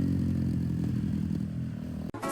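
A motorcycle ridden home after a day at a beach in Kerala, its engine a steady loud drone with road rumble throughout, cut off by a sharp clatter near the end.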